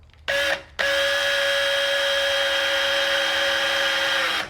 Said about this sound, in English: Not too much pressure, just lightly let the drill bit do the work.